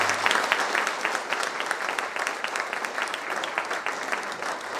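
Strong, steady audience applause for a performer after a song at a 75 years of Independence celebration, a dense wash of many hands clapping that fills the whole stretch at an even level.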